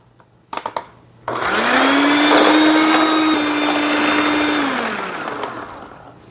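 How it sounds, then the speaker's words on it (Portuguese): An electric mixer beats gluten-free birthday cake batter with butter. A few small clicks come first, then a loud steady motor whine holds for about four seconds and tapers off, close up and with no voices. "E a gente também acrescenta a manteiga e volta a bater."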